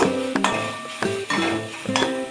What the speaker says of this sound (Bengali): গাজরগুলো ভাজবো, ভেজে তারপরে ভাজতে থাকি